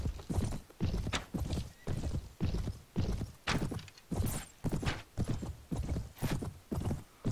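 Horses galloping in the video game Mount & Blade, their hooves pounding in a steady, evenly spaced clip-clop rhythm of repeated strikes, fairly soft and with no voices over it.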